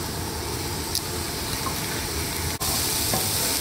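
Onions frying in oil for a Bengali potato curry, a dense, even close-up sizzle with a faint stir or two and a momentary dip, continuous and without talk.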